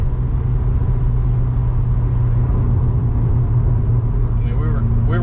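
Turbocharged 2019 Subaru WRX pulling hard under boost, a steady loud engine drone and road rumble from inside the cabin, with voices talking over it.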